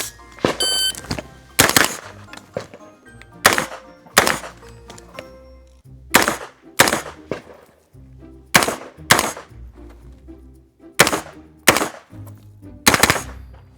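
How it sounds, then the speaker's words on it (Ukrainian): Sharp, loud gunshots from a 9mm Inter Ordnance carbine ring out close by, fired in short bursts of two or three with brief pauses between them. "тепер я постріляю з нашим коротеньким апером"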